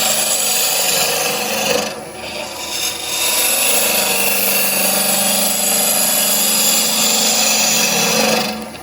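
A woodturning gouge cuts an ogee curve into a spinning wooden goblet on a lathe, giving a steady, loud scraping rasp that dips briefly near the start and then runs on continuously.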